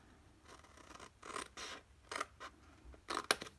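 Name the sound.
scissors cutting craft card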